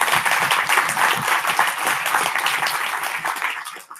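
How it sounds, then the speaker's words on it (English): Conference audience at OSFC 2019 applauding a speaker after his talk: dense, steady clapping from a sizeable indoor crowd, loud and close, tapering off at the end. "Let's have another round of applause for Ryan."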